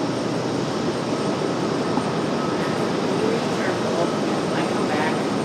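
American Airlines jet taking off from runway 23 right at Raleigh-Durham airport, a loud steady broadband engine roar heard from nearby, sustained throughout without a clear build or fade.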